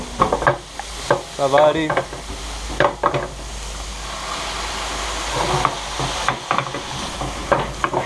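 Shallots sizzle in a pan as they are flambéed with cheap cognac, a steady frying hiss with stirring scrapes and clatter, while a voice speaks briefly over it.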